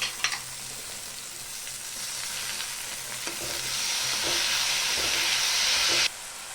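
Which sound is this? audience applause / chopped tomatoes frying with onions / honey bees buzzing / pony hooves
chopped tomatoes frying with onions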